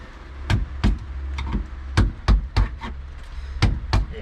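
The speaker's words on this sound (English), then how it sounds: "the screwdriver's making pretty short work of this, so I'll just knock it off" Sharp knocks from a screwdriver chiseling and knocking material off during a build ring out in an uneven series of about ten hits, some in quick pairs, loud and close over a low hum.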